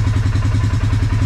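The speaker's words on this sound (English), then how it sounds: "We're only idling it though, so it takes a little while to get her going." A Polaris Sportsman 570 ATV engine idles close and loud with a steady, even low thump-thump pulse and a slight mechanical clatter, running alone without talk.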